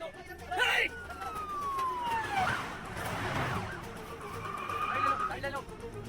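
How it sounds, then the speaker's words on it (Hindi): A police siren wails and sweeps up and down in pitch, coming and going, with voices talking over it and some vehicle noise. "पुलिस की गाड़ी आ रही है, जल्दी।"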